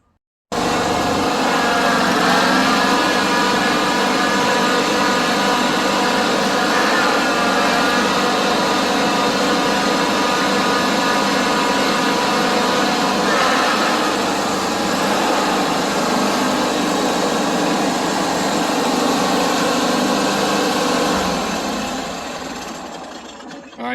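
A John Deere riding mower engine idles roughly while misfiring on one cylinder, a steady close mechanical drone with an uneven pulse that runs continuously before cutting off at the end.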